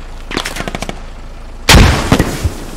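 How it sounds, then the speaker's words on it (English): Hand grenade explosions and gunfire in the military shooter Squad: a run of quick, sharp shots is cut off by a loud, close blast, with a few more bangs trailing after it. "Oh my god, they're throwing hand grenades."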